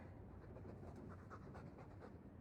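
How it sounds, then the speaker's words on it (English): Quiet, rhythmic dog panting runs continuously under a low steady hum, soft and close with no talking. "All that noisy dog breath, day in, day out."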